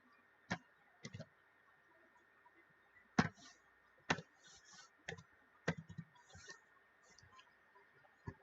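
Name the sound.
typing code on a computer keyboard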